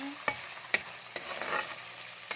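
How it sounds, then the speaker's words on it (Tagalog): Chayote sautéing with ground meat in a hot pan, a soft sizzle punctuated by several sharp scrapes and clacks of a spatula stirring at irregular intervals. "Nagigisa ako ng sayote"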